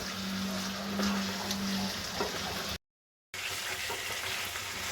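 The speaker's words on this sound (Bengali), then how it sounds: "এখন কিন্তু আলুর সঙ্গেও খুব ভালো করে মশলাটা কষিয়ে নেওয়া হয়ে গেছে।" Potatoes and spices, fennel powder among them, sizzling and frying in a pan for an egg curry, a steady close hiss with a short silent gap.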